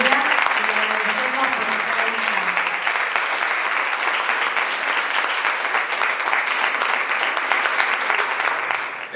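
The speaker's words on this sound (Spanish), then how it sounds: "Le damos un fuerte aplauso y la bienvenida." A lecture audience gives dense, sustained applause welcoming a speaker. The clapping stays loud and even throughout, with a voice faintly audible under it at the start.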